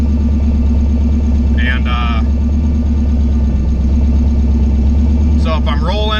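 A Chevstang car engine idles loudly and steadily while lining up on a TransBrake, a constant low rumble with brief bursts of a voice over it.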